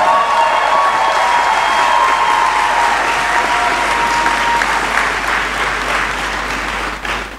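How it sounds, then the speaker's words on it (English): Loud, sustained applause from a large audience in a great hall at a university graduation ceremony, dense clapping with a faint tonal hum underneath, tapering slightly at the end. "Please let's clap for him while he descends here."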